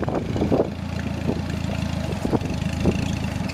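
A Joyner Trooper 1100cc five-speed utility vehicle idles in first gear with the clutch out, creeping over a curb. It gives a steady, close, low rumble with soft rhythmic pulses, and no one talks over it.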